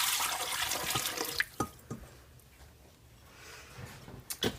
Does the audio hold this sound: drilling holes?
no